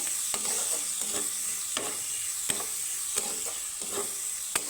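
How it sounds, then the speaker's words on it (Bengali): Two large onions frying lightly in a pan, with a steady hiss of sizzling oil broken by regular spatula scrapes and taps, close and moderately loud, no talking. "পেঁয়াজটাকে আমি একটু হালকা ভেজে নিব"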